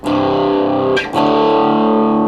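A heavily distorted electric guitar chord through a Boss GT-100 multi-effects unit rings loud and sustained, briefly cut by a strummed change near the middle, then rings on again.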